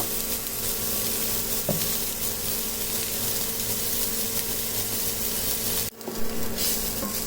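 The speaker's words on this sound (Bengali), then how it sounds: "এখন আমি পেঁয়াজটাকে হালকা লাল করে ভেজে নেব।" Onions frying in a little oil for a fish-head murighonto, a steady close hiss of sizzling throughout with a brief clatter near the end; no talking.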